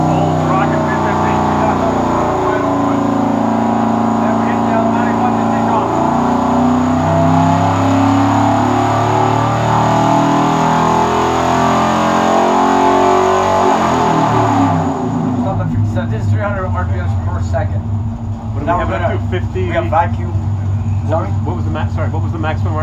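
An old Oldsmobile Rocket 350 V8, a Rallye 350, roars steadily at high RPM under load on a dyno for about fifteen seconds, then drops to a lower, rougher idle over loud background noise.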